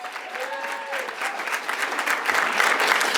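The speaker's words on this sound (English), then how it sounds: "Yeah, you can clap." A crowd at a city event honoring a Chicago city clerk breaks into sustained clapping. It is moderately loud and thickens toward the end, with a brief whistle-like cheer near the start.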